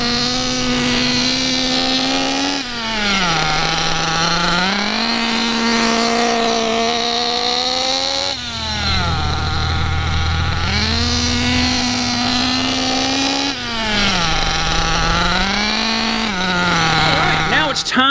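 A nitro-powered RC buggy engine drones loudly at about half throttle while the car runs figure eights, its buzzing pitch rising and falling smoothly in repeated sweeps as the car circles.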